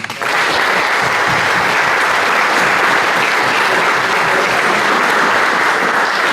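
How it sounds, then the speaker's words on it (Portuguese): Loud, dense applause from a tech conference audience at the end of a talk on building APIs with Laravel, sustained evenly for several seconds without a break. "salva de palmas"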